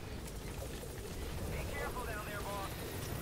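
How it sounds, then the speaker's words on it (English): A helicopter flies nearby in the Metal Gear Online 3 video game, a loud, steady rotor roar that fills the scene, with a faint voice partly buried beneath it. "Oh damn, there's a helicopter here."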